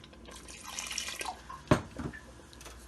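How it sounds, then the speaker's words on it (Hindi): Water is poured into a pot of chana daal gosht, a lentil and meat curry, with one short splash and a gentle trickle, close up. No one speaks. "एक कप पानी डाला है अभी हमने, अभी और डालेंगे पानी इसमें।"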